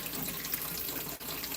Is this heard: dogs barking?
no